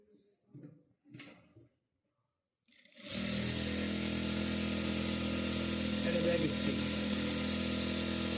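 A newly installed sewing machine runs steadily with a continuous motor whir and stitching hum after a few seconds of quiet talk, holding level until the end.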